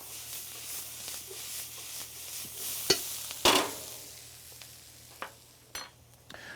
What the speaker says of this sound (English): You can already see the onions and garlic and pepper combined are really starting to brown in that hot oil.